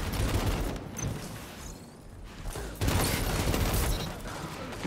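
Sustained automatic gunfire from a machine gun loaded with volatile rounds in the Destiny shooter, a dense rattling burst with a brief lull midway before firing resumes loud and close amid a busy battle mix.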